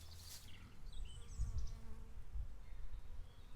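A honeybee colony buzzing during a hive inspection, a dense close hum of many bees with individual insects droning past the microphone, continuous throughout.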